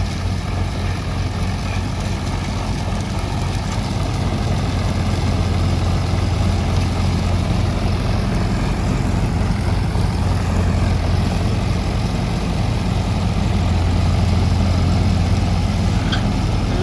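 A tractor pulls a three-tine Happy Seeder sowing wheat into straw-covered field, its engine droning steadily and loudly at slow, even pace for the whole stretch, with no talking.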